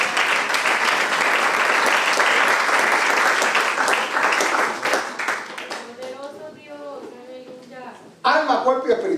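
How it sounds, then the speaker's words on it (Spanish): Strong applause from a church congregation fills most of the clip, fading after about six seconds as a voice speaks, then a short burst of clapping returns at the end. "Dale un aplauso fuerte a Cristo."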